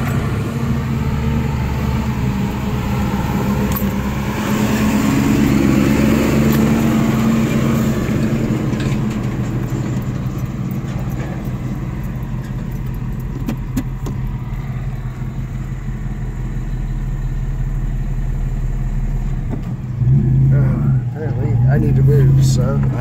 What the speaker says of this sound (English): Big trucks like that coming in and out.